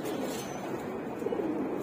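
Pigeons on a rooftop coo softly and continuously, their low, throaty calls overlapping close by against a faint background hiss.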